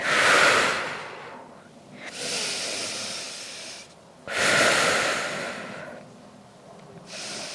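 Deep, slow breaths drawn during a Pilates stretch: about four long, airy inhales and exhales, close and steady, with no talk.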